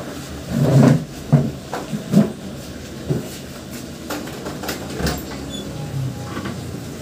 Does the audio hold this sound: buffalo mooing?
no